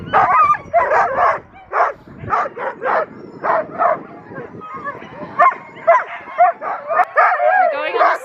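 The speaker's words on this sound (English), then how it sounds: "the dogs are very excited" Sled dogs bark and yip excitedly in rapid, overlapping bursts, loud and close, with whimpers between barks and a person talking over the pack in a snowy Lapland setting.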